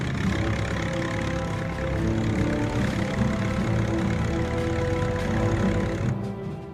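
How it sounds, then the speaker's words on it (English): Four Liberty engines of the Barling bomber, a huge triplane, drone in a dense, steady roar with low propeller hum, holding constant loudness throughout and fading slightly at the very end. "it was all the Barling's 4 Liberty engines could do to get it into the air"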